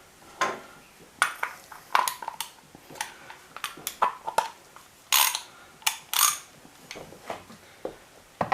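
Metallic clicks and clanks of an oil filter wrench gripping and turning the oil filter on a Triumph Speedmaster 1200 motorcycle, in uneven bursts close by.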